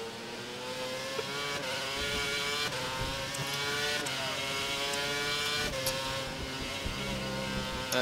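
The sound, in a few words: F1 2011 race car engine revving to full revs, video game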